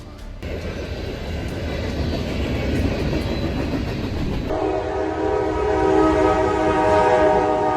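A high-speed train comes on with a rising roar of wheels and rushing air, then a loud sustained horn blast breaks in and holds to the end.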